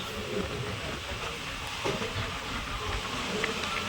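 Steady rumble and hiss of a train rolling along rails through a tea estate in Assam, a continuous broadband roar with faint rhythmic clatter throughout.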